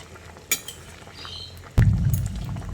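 A spoon clinks once against a pot of Malabar spinach cooking with lentils, pumpkin, stalks and potato, then a sudden low rumbling bubble and steam rise and continue as the lid comes off and the mix is stirred.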